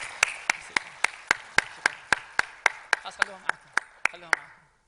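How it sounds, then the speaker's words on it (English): About sixteen sharp, evenly spaced claps sound close and loud for volunteers at a student orientation event, keeping a steady rhythm before stopping. "Let's give them a big round of applause, please."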